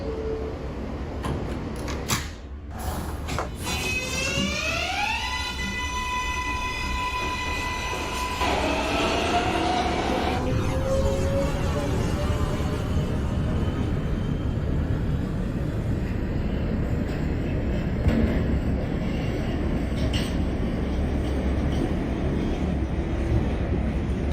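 A simulated NYC Subway R143 J train in OpenBVE pulls away with a rising electric motor whine that climbs in steps, then settles into a steady rolling rumble with faint rail clatter, loud and continuous throughout.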